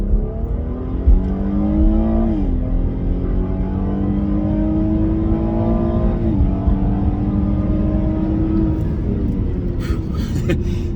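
A 2017 Cadillac ATS pulls hard under acceleration, its engine note climbing steadily through two upshifts with brief dips, loud and close throughout, heard from inside the car.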